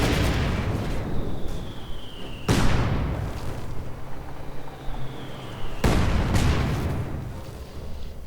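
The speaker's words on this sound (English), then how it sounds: "Mortar rounds flying left and right." Mortar rounds and rifle grenades explode in a Company of Heroes 2 battle: two sharp, loud blasts a few seconds apart, each followed by a falling whistle, over a constant rumble of distant combat.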